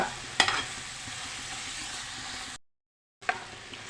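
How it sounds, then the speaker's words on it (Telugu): Beraka chutney frying in a pan and being stirred, a soft steady sizzle with a sharp utensil knock early on, then a brief cut to silence before the sizzle and another clink return. "ఇలా మధ్య మధ్యలో కలుపుకోండి"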